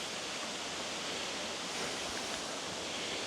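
Baxter Falls pours into water at its base, a steady, full, hissing rush that stays even and close throughout, with no talk.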